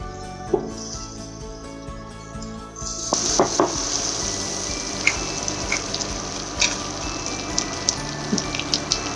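Cumin and coriander seeds sizzling in hot ghee in a pan for an Indian kadai paneer, a quiet start then a sudden loud hiss with scattered pops and crackles that keeps going steadily.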